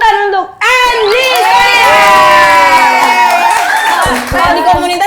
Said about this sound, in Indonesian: Beri tepuk tangan untuk Andy